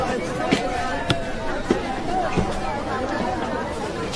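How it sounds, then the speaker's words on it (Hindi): A busy crowd of people in Patna, a dense hubbub of overlapping voices and chatter close around, broken by a few sharp knocks and thumps. "तुम्हारे पटना में कितनी भीड़ है भाई"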